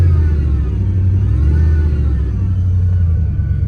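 A Dodge Ram idles with a steady, low engine rumble and a faint whine from its power steering pump running continuously underneath, close by and with no talking.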